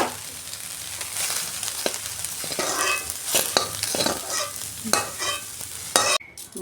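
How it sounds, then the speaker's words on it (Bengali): Soybean chunks frying in oil in a pan sizzle and crackle steadily while being stirred, with a scrape or two of a utensil; the sound is close and clear. "এই যে সয়াবিনটা আমি ভেজে নিচ্ছি"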